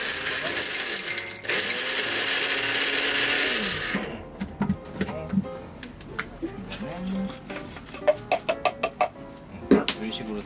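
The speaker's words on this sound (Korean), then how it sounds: "요즘은 대부분 다 그냥 믹서기로 합니다" A kitchen blender grinding pills whirs loudly for about four seconds, then stops; afterward come scattered clicks and knocks with bits of voice in the background.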